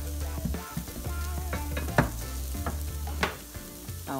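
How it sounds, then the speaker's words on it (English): Cauliflower garri pan frying with steady stirring, a continuous close sizzle broken by scraping stirs and small clinks, no voices. "It has to be pan fried."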